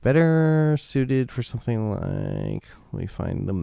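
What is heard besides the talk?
No everyday noise stands out behind the speech.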